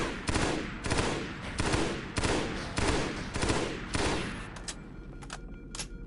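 Rapid gunfire shooting at elites in Halo: Combat Evolved SPV3, loud repeated bursts in a steady rhythm of roughly half-second volleys, tapering into a few sparse isolated shots near the end, with no voices.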